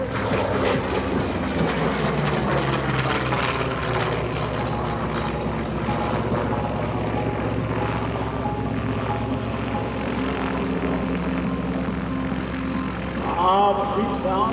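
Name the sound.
F4U Corsair piston engine fighter flying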